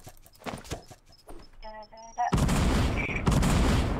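Loud sustained blasts from a plunger gun in Fortnite burst in after a stretch of lighter game sounds and chatter, roaring continuously with a second surge near the end.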